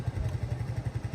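A motorcycle engine runs on a flooded road, a low pulsing chug with a steady uneven throb, close and moderately loud, with no talk over it.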